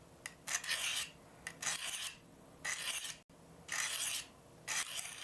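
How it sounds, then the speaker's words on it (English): A knife blade is drawn across the 200 grit side of a whetstone in about six rasping passes, each a short gritty scrape separated by brief pauses, close and fairly quiet with no talking. "We're gonna do a few passes on the 200 grit side here."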